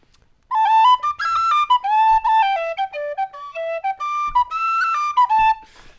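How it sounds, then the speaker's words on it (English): A handmade tin whistle played live at an Irish music night, bright, clear melodic notes in a slow air with brief breaths between phrases, close and solo without speech. "I've got one of his old whistles here,"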